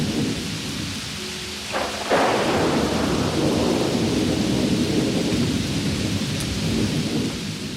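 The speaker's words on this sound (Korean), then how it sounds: "천둥 번개까지 쳐가면서 비는 하염없이 쏟아지고 있었지." A thunderstorm with heavy rain: a dense, loud, steady downpour with a deep rolling thunder crack breaking in early, then continuing rain without any speech.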